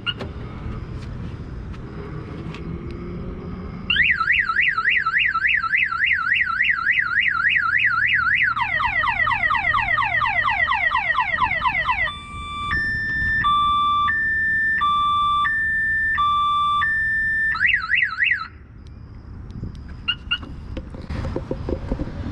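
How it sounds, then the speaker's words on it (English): A Viper car alarm on a 1990s Roadtrek 210 camper van blares loudly and alone, cycling through rapid warbling whoops, descending sweeps and steady alternating beeps over roughly fifteen seconds before stopping. "door locks, which will include the Viper alarm"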